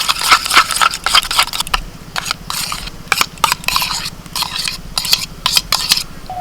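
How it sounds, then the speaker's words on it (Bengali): A utensil whisks strained sour yogurt in a bowl, quick rhythmic scraping and clinking strokes in bursts, fairly close, with short pauses between. "জল ঝরানো টক দইটা একটু ভালো করে ফেটিয়ে নেবো"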